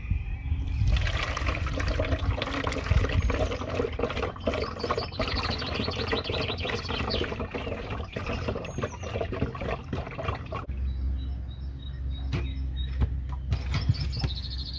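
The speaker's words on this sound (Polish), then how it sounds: "Uzupełniam wodą." Water poured into a garden pump sprayer to top it up, a steady splashing trickle running for about ten seconds before giving way to quieter, thinner dribbling sounds.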